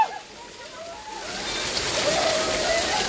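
Water pours from the 108 spouts at Muktinath as a broad, steady rush that grows louder and fuller partway through, with faint voices mixed into the flow.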